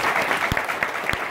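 A short burst of clapping from a seated audience at a group meeting, a few distinct hand claps standing out over a dense patter, fairly close and without talk.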